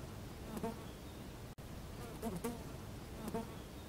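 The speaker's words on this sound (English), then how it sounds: "Kids, this is horsefly." Horsefly buzzing in short bursts, a faint droning hum that swells three times against a steady background hiss, with no voices.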